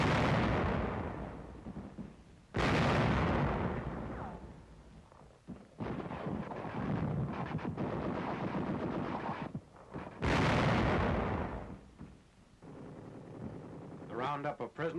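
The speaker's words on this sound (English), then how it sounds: "Tanks blast Nazi strong points." Tanks firing on Nazi strong points in a 1944 newsreel, several heavy booming blasts spaced seconds apart, each followed by rumbling decay, alongside continuous battle noise.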